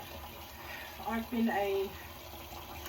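Water is squeezed into a rounded paintbrush: a short burst of trickling and dribbling liquid mid-clip, fairly close, with a person talking nearby.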